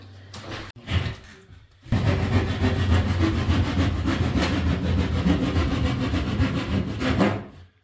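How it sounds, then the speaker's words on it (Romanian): A hand saw cutting during a sewer pipe repair under a concrete slab at a house, a few short strokes and then a continuous loud rasping run of back-and-forth sawing, close up with no speech. "Mă duc să duc ferezul, și după aceea tăiem."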